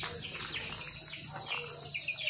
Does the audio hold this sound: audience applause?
no